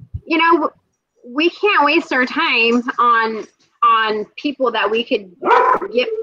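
A dog barks inside a house in short bursts, mixed in with nearby conversation that runs through most of the moment.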